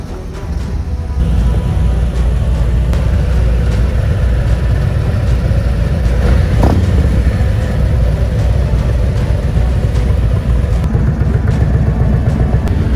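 Several motorcycle engines idle and rumble together at an advanced slow-speed riding practice session, a loud, steady, continuous drone that swells just after the start and holds.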